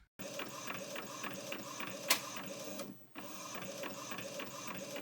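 An Epson printer prints on matte paper for sublimation, a steady mechanical whir and rattle with a brief sharp click partway through, then a short pause before the whirring resumes.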